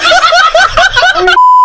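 A single steady censor bleep tone cuts in at the end of a burst of excited chuckling laughter during a radio prank call.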